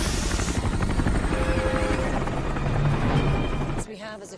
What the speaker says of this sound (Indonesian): Lalu kemudian disusul dengan kedatangan 3 helikopter